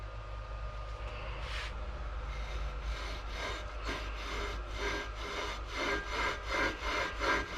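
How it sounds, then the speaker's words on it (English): A flywheel is twisted back and forth on its shaft with valve grinding compound, giving a close, gritty rasping scrape that repeats in quickening strokes. "twist the flywheel back and forth and make sure this is a nice smooth surface for the flywheel to go on"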